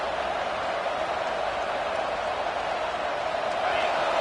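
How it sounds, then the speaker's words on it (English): A large stadium crowd at a football game roars steadily throughout, a dense, constant wall of cheering with no breaks. "Listen to the crowd energy here in the early going."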